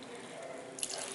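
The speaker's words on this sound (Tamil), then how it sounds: "இப்போ தண்ணி ஊற்றணும்." Water and coconut milk mixture poured into basmati rice for chana pulav, a steady close pouring and splashing stream that gets slightly louder near the end.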